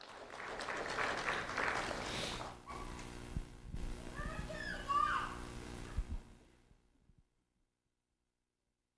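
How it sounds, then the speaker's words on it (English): An indoor audience claps for a fifth-grade student at a sheriff's office Do the Right Thing recognition ceremony. The steady applause lasts several seconds, then thins and fades out, with faint background sounds in the room. "Let's have a round of applause for Alejandro Alfonso"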